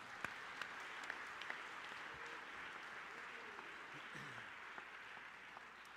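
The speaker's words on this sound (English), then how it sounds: "Let's give the Red Storm a round of applause." Quiet, distant applause from an indoor audience at an awareness-month kickoff event, steady clapping sustained throughout with scattered louder claps.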